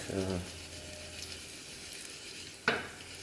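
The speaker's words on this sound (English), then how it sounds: "as the dried chilies are frying" Soft, steady sizzling of dried chilies frying in oil, with a brief voice at the start and a sharp utensil clack near the end.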